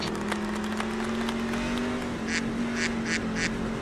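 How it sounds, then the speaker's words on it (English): Repeated nasal duck quacks, four short bursts in a row, ring out over a steady engine-like hum and background noise at a Lime Rock Park race event. "It's like the Aflac duck, you know?"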